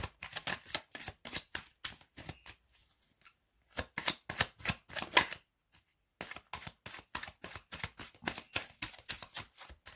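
Cards are shuffled for a tarot-style card reading: quick, crisp riffling and snapping bursts that repeat in close succession, broken by two brief pauses, with no talk.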